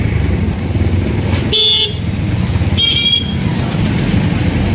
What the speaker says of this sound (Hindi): देख सकते हो गाइस यहाँ थोड़ी ट्रैफिक रहती है।